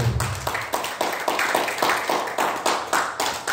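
A church congregation claps in a steady rhythmic beat, roughly two claps per second, close and lively, with a brief low voice at the start.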